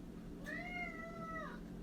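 A single drawn-out cat meow, rising then falling over about a second, clear and fairly close against a low steady background hum.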